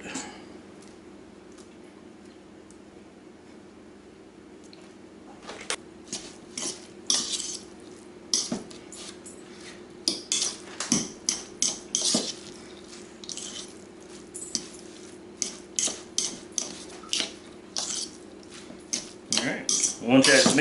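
A spoon stirs a burger mixture with yellow mustard in a bowl, starting quiet then giving a steady series of sharp metallic scrapes and clinks against the dish, close and rhythmic, with a low hum beneath.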